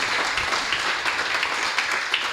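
A studio audience at a TV music show claps continuously in a dense, even wash of applause, with no voices over it.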